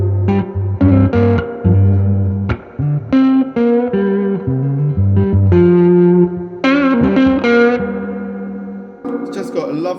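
A Les Paul electric guitar played through a Vibrolux amp and effects pedals rings out with loud, echoing, chorused notes and chords, picked in short phrases with sustained tails and reverb.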